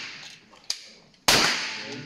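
Gunshot at an outdoor shooting range: a sharp, loud report cracks out alone, followed by a long bright decaying ring, with a fainter snap just before.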